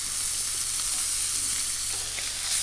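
A steak sizzles steadily in a hot pan, giving a constant loud frying hiss with no pauses and no talking.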